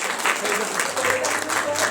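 A crowd at a North Zone yoga competition's main function claps for the arriving guest of honor, Professor Dharmananda, dense steady applause throughout with a voice faintly audible underneath.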